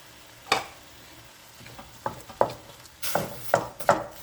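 A pound of ground beef breaking up and frying in a pan with onion, soft sizzle beneath scattered scraping and clacking stirs of a utensil against the pan, close and fairly loud.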